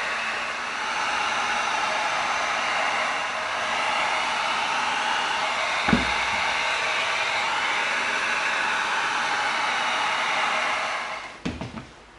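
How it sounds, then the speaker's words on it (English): A heat gun blows a steady, loud, close whooshing roar while sealing and tightening carved EVA foam for a bison axe prop, with a couple of faint clicks and handling knocks. "let's get our heat gun out. Let's seal that up so it tightens up."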